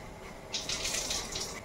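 Water poured off salted, washed radish leaves, a steady splashing trickle that starts abruptly partway in and runs close and moderately loud to the end.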